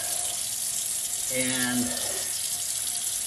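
Warm tap water runs steadily into a sink during aseptic hand washing, a continuous broadband splash with a brief faint word spoken over it.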